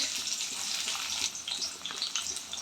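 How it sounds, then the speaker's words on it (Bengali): Chopped onion hitting hot oil in a pan, giving a steady, close hiss of frying with crackly bright spatter throughout, moderately loud and without any talking. "তেলটা মোটামুটি গরম হয়েছে, আমি দিয়ে দিচ্ছি পেঁয়াজ"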